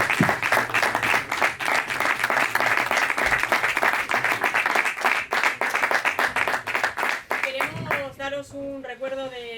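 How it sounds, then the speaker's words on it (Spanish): An audience at a round-table event on Soria football, past and present, gives sustained applause for the club president and provincial delegate; close, dense clapping runs throughout, thinning near the end as a voice begins speaking over it. "os vamos a dar un aplauso"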